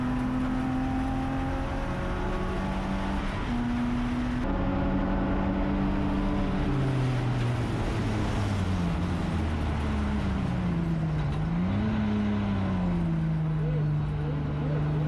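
A BMW E36 race car in an endurance race at Willow Springs, its engine droning loudly and continuously from inside the cabin, pitch sliding up and down with throttle and gear changes.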